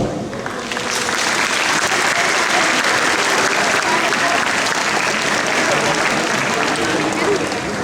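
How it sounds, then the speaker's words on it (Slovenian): Loud, dense applause from the audience at an international karate tournament in a hall, a continuous roar of many hands clapping with crowd noise that stays even from start to finish. "Vsem en velik aplavz."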